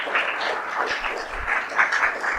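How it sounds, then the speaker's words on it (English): Applause from the audience at a summer camp valedictory function, a steady broadband patter of many hands at moderate volume, continuous across the moment with no speech over it. "Let us give everybody a good round of applause."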